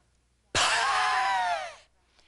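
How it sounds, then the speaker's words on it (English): A single forceful diaphragmatic exhalation through closed lips during a breathing exercise, close up, a breathy hiss with a faint whistling wheeze lasting just over a second. "You'll notice the wheezing sound."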